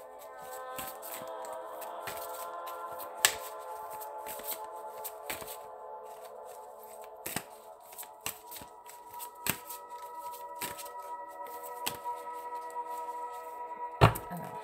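Large oracle cards shuffled by hand in a steady run of soft, papery riffles and slides, with a few sharper taps as the deck is squared, close and fairly quiet, with no voices.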